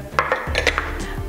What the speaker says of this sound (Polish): miareczkę nakładamy na pokrywę